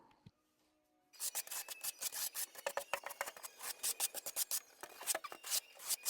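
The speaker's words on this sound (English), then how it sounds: "we are securing the water basin with mortar, laying it out, putting in all of the ridges" A trowel scrapes ridges into mortar under a shower basin during a bathroom remodel, a rapid string of close, gritty scraping strokes in an uneven rhythm after a quiet start.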